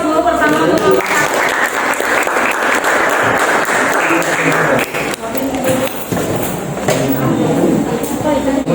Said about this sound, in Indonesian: Kita beri aplaus dulu bersama untuk kelompok satu